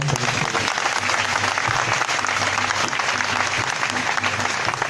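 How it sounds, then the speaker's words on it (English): Dense, loud applause from a large audience at a rally fills the whole stretch, cheering students after a national anthem performance, with faint voices mixed into the crowd noise. "Please, a round of applause for those students."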